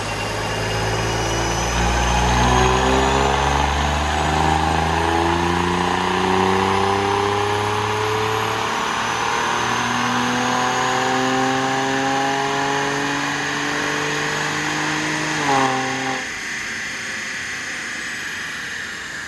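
A Mercedes-Benz GLE 43 AMG engine runs on a dyno during tuning, a loud steady drone that climbs smoothly in pitch through a long rev sweep before cutting off abruptly near the end.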